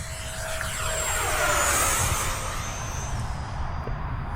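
An FMS Yak-130 70mm EDF RC jet flies past at full throttle, a steady loud ducted-fan whine and roar that swells near the middle and fades slightly as it moves away, with no talk.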